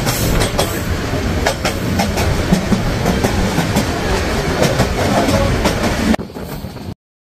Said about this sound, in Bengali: আন্তনগর বুড়িমারি এক্সপ্রেস ট্রেন।